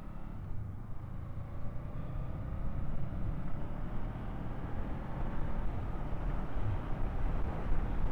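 A Honda CL 500 Scrambler motorcycle rides up a lane on Dunlop tyres, a steady engine drone with rising pitch under constant wind rush, heard from on board and fairly loud throughout.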